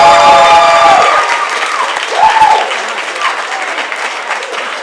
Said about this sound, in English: Thank you guys so much for that warm applause